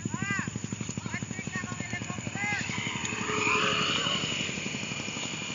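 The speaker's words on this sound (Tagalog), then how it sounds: "Helicopter" A helicopter flies overhead at night during an outdoor spider hunt, its steady rhythmic rotor chop running close and loud throughout, with people talking over it.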